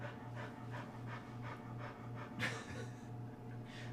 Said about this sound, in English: Sometimes Scooter's panting just gets me